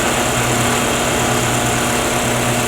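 A wood lathe spins steadily while a turned pen is burnished on it, making a loud, constant high motor whine with an even hum and no talking.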